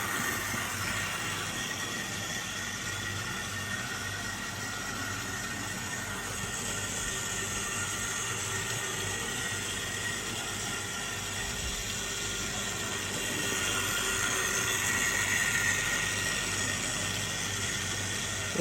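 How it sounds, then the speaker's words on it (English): A Hornby Bulleid Squadron model locomotive fitted with an X04 motor runs steadily, giving a continuous noisy mechanical whir and hum, amplified by the body shell, that swells slightly louder toward the end, with no talking. "it's got an XO4 motor in this, as we know, and the body shell, they act like speakers, like sound chambers, so that's why it sounds quite noisy"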